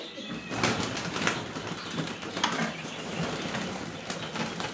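Pigeons in a home pigeon loft coo softly and rustle, with scattered wing flaps and shuffling at moderate distance over a light background hiss.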